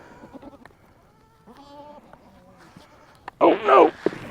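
Goats on a farm in extreme cold bleat in short wavering calls, ending in a loud, close, strained bleat, with other bleats and animal noises at a distance.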